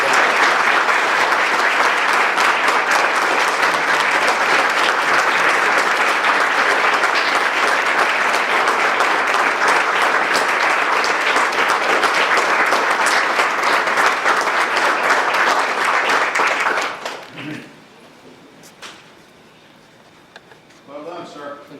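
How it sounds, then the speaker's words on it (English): A hall audience gives Officer Calloway a rousing round of applause at a city meeting, dense sustained clapping for about seventeen seconds that then stops abruptly, leaving quiet room noise and a few faint sounds. "Let's give Officer Calloway a rousing round of applause."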